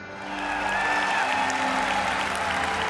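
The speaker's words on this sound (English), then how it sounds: "That was the loudest applause." A large conference audience breaks into steady, loud applause at the announcement of Kotlin support in Android Studio, a dense wash of clapping that swells quickly and holds.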